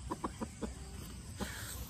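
Chickens, part of a large flock of about seventy birds, let out a run of short clucks spaced close together early on, then one more after a pause, over a steady farmyard murmur.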